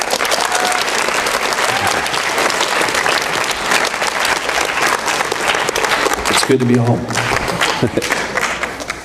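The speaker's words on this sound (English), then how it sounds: "So all right, give him a clap" Loud, dense audience applause fills the room at a homecoming talk for an Army specialist back from Afghanistan, steady clapping throughout with a brief spoken line near the end as it carries on.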